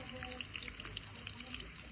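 Cashew nuts fry in ghee in a pan for ghee rice, giving a soft steady sizzle with faint crackles throughout, heard close and alone.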